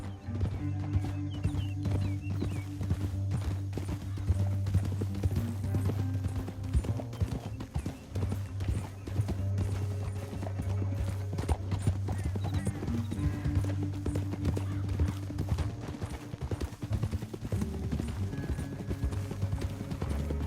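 Continuous clip-clop of galloping hooves with a steady low rumble, several horses running together without pause, in the video game Red Dead Redemption 2.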